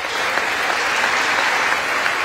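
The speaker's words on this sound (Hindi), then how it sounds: "अमेरिकी सांसद कई बार खड़े होकर तालियां बजाते दिखे" Dense, sustained applause fills a large chamber as US lawmakers in Congress clap during an Indian prime minister's address, a loud, even wash of many hands with no voices standing out.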